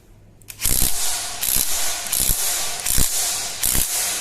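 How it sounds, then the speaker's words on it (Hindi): A nut being tightened to set torque on a Swaraj 724 4x4 tractor's fuel injection pump flange, heard as a series of sharp ratcheting clicks in separate bursts, close and fairly loud, with no talk. "निर्धारित टॉर्क द्वारा नट को कस दें।"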